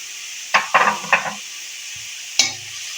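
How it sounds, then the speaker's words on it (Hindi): Spoon scraping and clattering in a pan while cabbage and boiled chicken are stirred together, a few sharp separate strokes close up over a faint background hiss, with no voices. "इनको मिक्स कर लेते हैं।"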